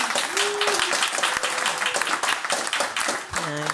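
A studio audience gives a warm round of applause to a table of designers, dense steady clapping filling the space with some voices and tonal sounds mixed in.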